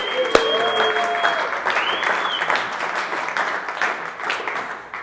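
Applause from an audience at a company all-team meeting, loud and sustained for about five seconds, with dense clapping that fades slightly toward the end.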